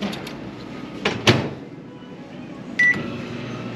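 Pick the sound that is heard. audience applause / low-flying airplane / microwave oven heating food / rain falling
microwave oven heating food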